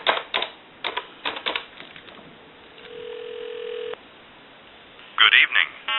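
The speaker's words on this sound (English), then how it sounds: "We'll give you some dial tone," Western Electric 2514 desk touch-tone phone: a few quick key clicks, then a steady dial tone for about a second, followed by a short burst of touch-tone dialing beeps, heard through a narrow phone line.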